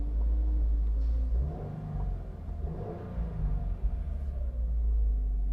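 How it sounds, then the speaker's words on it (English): A garbage truck idles and revs outside, heard from inside a car as a low, steady engine rumble with a slight swell in the middle, moderately distant and fairly quiet, with no talking. "there's a garbage truck out there"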